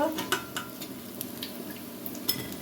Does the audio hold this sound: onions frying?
yes